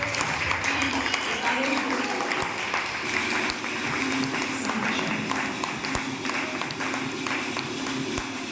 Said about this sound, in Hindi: साथियों तालियां